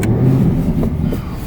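Aston Martin AMR Vantage pulling away in sport mode, a steady loud low engine drone heard from inside the cabin with slight rises in pitch as it accelerates, no talking.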